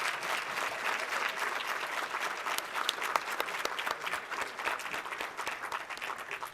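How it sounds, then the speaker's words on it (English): Audience applause for a jazz band's bassist and drummer at a Black cultural celebration, steady dense clapping that fills the whole stretch at moderate level without voices. "Could we give them a round of applause, please?"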